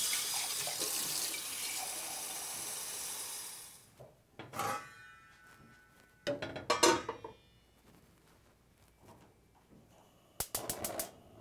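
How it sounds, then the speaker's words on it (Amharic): Tap water runs steadily into a cooking pot, filling it for rice in a home kitchen, then stops, followed by a few brief clinks and knocks of the pot and utensils. "ስለዚህ ውሃውን እጨምራለሁ ማለት ነው።"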